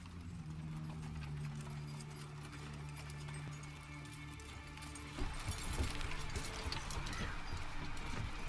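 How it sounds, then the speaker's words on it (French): Horses' hooves clip-clop steadily in The Witcher 3: Wild Hunt – Blood and Wine, against a busy game soundscape that grows louder partway through. "Oh, les chevaux qui apparaissent un petit peu après."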